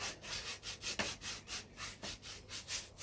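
Calluses on a man's feet are scrubbed during a home foot spa, a rhythmic back-and-forth rasping of about a dozen strokes, close and moderately quiet.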